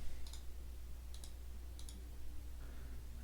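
Three quiet, crisp mouse clicks in the VBA editor, spaced roughly a second apart over a steady low background hum.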